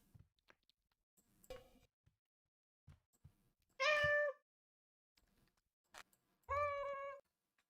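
Two separate meows from a cat in the Little Inferno game ring out close and clear, a few seconds apart. Soft clicks and small taps fill the quiet between them.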